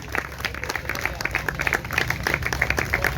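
Applause from the crowd at a prize distribution ceremony honouring a tournament champion, with crisp, close individual claps in an uneven rhythm over a low background hum.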